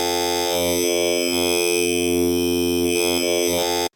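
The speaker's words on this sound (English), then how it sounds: "wavetable sounds like this." A loud, sustained wavetable synthesizer tone, rich in buzzing harmonics, holding steady for about four seconds while its upper overtones slowly shift and pulse before cutting off.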